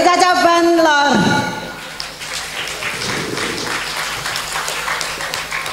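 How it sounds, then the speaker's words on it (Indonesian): Audience applause for a hadroh group from the Cacaban Lor branch at a Muslimat Fatayat hadroh festival, rising after sustained music with a voice over it, then steady mid-level clapping filling the space. "Kita berikan aplaus untuk ranting pekacangan Caca Bandlor."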